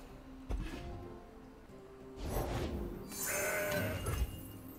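A goat bleats in the Legends of Runeterra card game after a card is turned into a goat. A few quiet, wavering calls come alone, with no speech.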